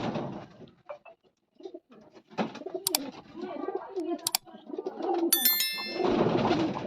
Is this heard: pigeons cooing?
yes